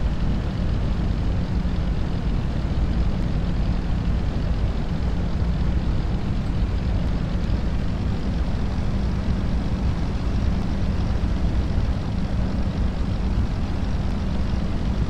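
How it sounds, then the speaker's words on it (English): Simulated aircraft engine in Flight Simulator X on landing approach near Friday Harbor, flaps full and throttle pulled back, a steady, loud, continuous drone with no talking. "We're still coming in pretty fast, so I'm just gonna drop the throttle rate down."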